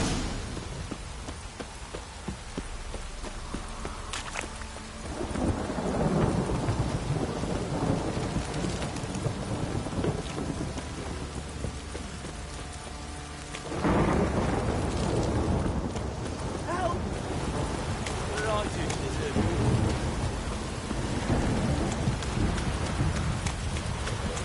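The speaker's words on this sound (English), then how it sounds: "This downpour's a bastard, it is." Heavy rain pours steadily while thunder rumbles in the video game The Witcher 3: Wild Hunt, with louder surges of downpour partway through; the storm fills the whole scene.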